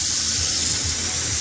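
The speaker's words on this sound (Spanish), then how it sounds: "Hay que ponerle agua fría, dejarlos en agua fría por ahí" Cold tap water gushes steadily into a bowl of cut potato sticks in a kitchen while preparing poutine, a continuous close splashing stream.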